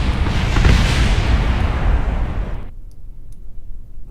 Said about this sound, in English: Just a few explosions.